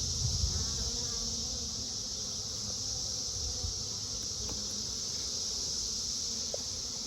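Steady, dense buzzing of many honeybees close by in an open hive, a continuous drone with no pauses.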